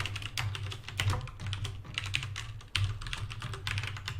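Rapid computer keyboard typing while writing JavaScript code, a steady clatter of close keystrokes with brief pauses, no voices.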